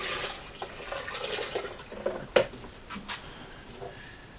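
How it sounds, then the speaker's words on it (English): Pottery glaze pouring into a recycled plastic milk container, a soft liquid trickle with a few splashy drips and knocks, faint and intermittent. "Just going to pour a bit of glaze out"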